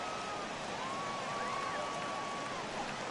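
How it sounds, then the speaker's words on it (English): Steady, dense hiss of heavy rain in the baseball video game MLB 18, a constant broadband wash filling the whole stretch with faint tonal crowd or ambient murmur underneath. "This has got to be the hardest rain we've seen all afternoon"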